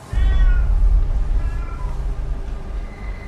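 A cat meows in a few drawn-out, wavering calls over a steady low rumble of background noise, fairly loud and close.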